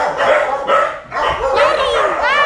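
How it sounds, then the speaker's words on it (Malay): Several dogs barking at an animal shelter, loud and close, with repeated overlapping barks and yips in quick bursts. "situ ada banyak anjing"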